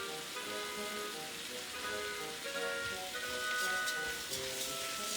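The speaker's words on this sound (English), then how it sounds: "Now I've added 2 cups of the rice to the mixture, and we'll be sauteing it just to kind of give it a little bit of browning" Rice sautéing in a pan with mushrooms for risotto, a steady soft sizzle with light stirring, faint and continuous, with background tones underneath.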